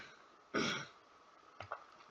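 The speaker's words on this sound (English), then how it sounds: "I have to keep clearing my throat." One short throat clearing rasps out in a quiet room, followed by a few faint clicks and small mouth sounds.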